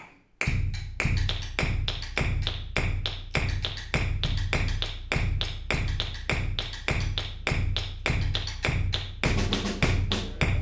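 A percussion section at a rehearsal plays a steady run of sharp, evenly spaced taps, with a brief quiet start before a continuous, close, crisp pattern fills the rest.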